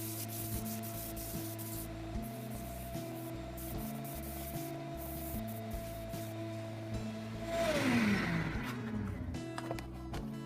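Sandpaper held against a small wooden bowl spinning on a lathe gives a steady, faint hiss and rub over the motor's constant hum, swelling into a brief, louder grinding sweep near the end.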